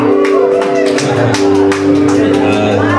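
Clapping for the groom at a church wedding ceremony, crowd claps mixed with a sustained musical drone and voices, loud and continuous throughout.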